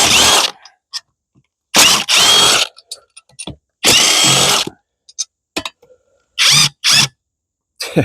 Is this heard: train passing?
no